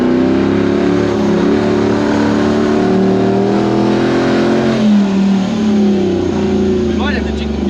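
A Toyota Land Cruiser bush truck's 1UZ VVT-i V8 runs with a misfire, dropping cylinders, giving a steady, loud, slightly uneven engine drone throughout with voices talking over it.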